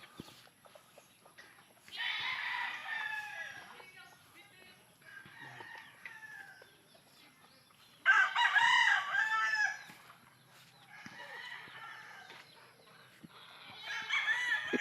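Roosters crow repeatedly on a backyard fighting-cock farm, several loud, drawn-out calls in separate bursts with quieter clucking and farm noise between them, some near and some farther off.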